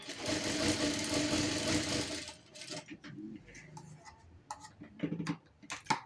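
A sewing machine stitches lining onto a blouse cup, running as a steady, moderately loud mechanical whir for about two seconds, then stopping, followed by scattered faint handling clicks and taps.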